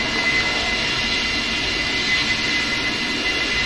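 A jet aircraft takes off at an air show with a loud, sustained engine roar and rushing noise, steady throughout with no voices.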